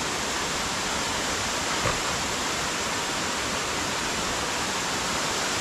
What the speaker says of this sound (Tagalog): Malakas yung tubig ng ating falls dito ngayon, oh.